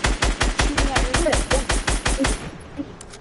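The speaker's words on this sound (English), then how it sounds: "Dude, stop shooting me. Stop shooting me." Rapid automatic gunfire in a PS4 video game, about a dozen loud, evenly spaced shots in a fast burst lasting two and a half seconds, then trailing off into quiet.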